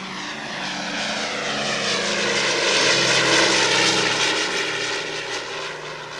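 Several propeller aircraft engines, including a Halifax bomber's, drone loudly and steadily as planes idle and take off, swelling slightly in the middle with a throbbing, beating texture.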